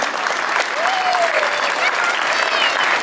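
An audience at a Téléthon charity event in Decize applauds the local firefighters, a dense, steady wash of clapping throughout with a faint voice briefly audible over it.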